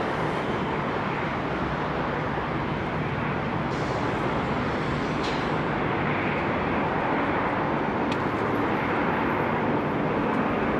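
Ex-KLM Boeing 747 Combi converted freighter taking off from Heathrow, a loud, steady, broad engine roar that holds for the whole stretch without letting up.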